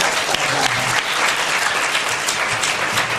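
A large audience at a seminar bursts into sustained, loud, dense applause that holds steady throughout without pause.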